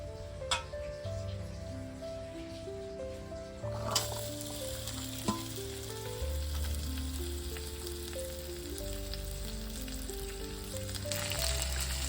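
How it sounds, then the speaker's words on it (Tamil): Spices sizzle and crackle in hot oil in a pan while making egg curry, at a low, steady level, with a few light clinks and soft background music playing throughout. "இதை மொத்தமாக நான் வந்து வானலியில் சேர்த்து வதக்கி எடுக்க போகிறேன்"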